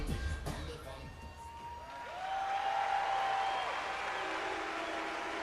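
A sellout crowd at Veterans Memorial Auditorium in Columbus, Ohio, applauds and cheers bodybuilder Marcus Rule at the 2004 Arnold Classic, a broad, fairly distant roar that swells midway and carries on steadily.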